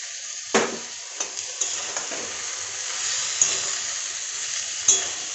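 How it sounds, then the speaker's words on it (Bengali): Spice-rinse water is poured into a pan of fried spices for a soybean and potato posto dish, producing a steady loud sizzle with occasional clinks and scrapes of a spoon stirring against the pan. "মশলা ধোয়া জলটা দিয়ে দিচ্ছি"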